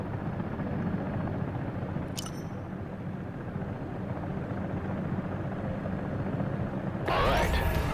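A Comanche helicopter in a VR flight game, a steady low rotor and engine drone running throughout, a brief sharp chirp early on and a brighter burst of noise near the end.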